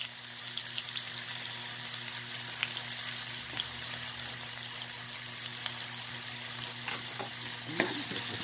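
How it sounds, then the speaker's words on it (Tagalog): Garlic and onion frying steadily in a pan, a continuous close sizzle with occasional light stirring clicks and a faint scrape near the end, no voices. "Lagyan na natin ang bawang at sibuyas."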